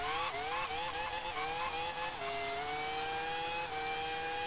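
A race car in the PS1 racing game Warm Up accelerates, its engine whine climbing through gear changes in a loud, continuous drone with rising pitch steps.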